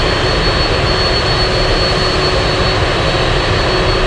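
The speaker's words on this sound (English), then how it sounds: "The Dream Lifter parking and completing their flight" A Boeing 747 Dreamlifter cargo jet taxis to parking at Anchorage, its engines a loud, constant broadband roar with a thin steady whine riding on top.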